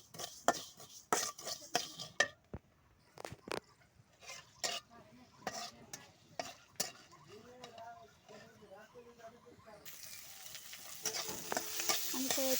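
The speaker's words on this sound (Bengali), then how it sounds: "এই যে কালো জিরাটা, এটা কড়াইতে দিয়ে নিচ্ছি" Black cumin seeds dry-roasting in a wok (kadai) for mashing, heard as scattered light crackles and scrapes of stirring with a few sharper clinks, ending in a louder steady hiss and sizzle.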